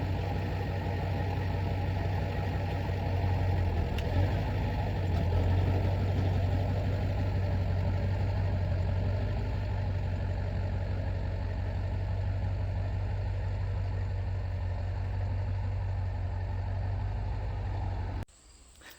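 A 1973 John Deere 1020 tractor engine, just pop-started, idles steadily with a low, even diesel rumble and a persistent hum, close by and alone, before cutting off abruptly at the end.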